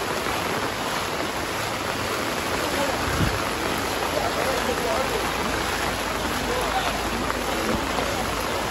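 Heavy rain falling on a street in Takoradi, Ghana, a dense, steady hiss that stays loud and close for the whole stretch without letting up.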